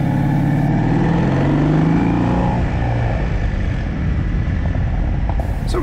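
A Kawasaki W800 motorcycle with stainless headers and a reverse cone megaphone exhaust is ridden, its engine droning and rising under heavy wind rush from a bike-mounted camera, loud and continuous.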